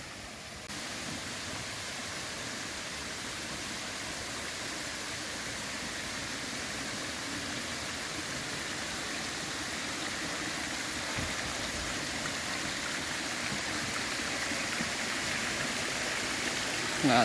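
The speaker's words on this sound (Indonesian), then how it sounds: "Dan seperti ini juga curugnya. Curug Sawer." Curug Sawer waterfall near a footbridge in Sukamakmur, Bogor, running with low, weak flow, gives a steady, even rush of falling water throughout, fairly soft and unbroken, with no voices over it.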